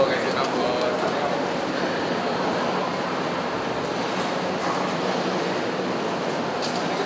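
A train on the Jakarta MRT, still under construction in 2017, sounds at a station platform as a loud, steady broadband rumble and hiss, with indistinct voices mixed in.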